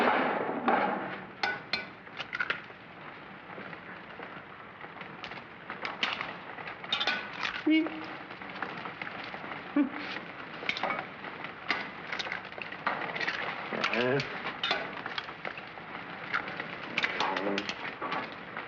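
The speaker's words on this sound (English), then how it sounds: "What's all that shooting around here?" Gunfire in a 1952 film scene crackles in repeated sharp shots and bursts, some rapid and overlapping, across a busy soundtrack with occasional voices.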